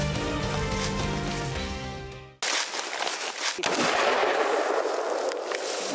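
Sustained music fades out, then a hunting rifle shot at boar or roe deer cracks loudly, followed by rumbling echoes and another blast amid a dense, noisy outdoor background.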